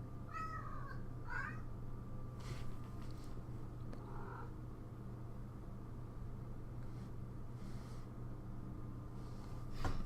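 A cat gives two or three short meows early on, faint and a little distant, over a steady low hum with no talk.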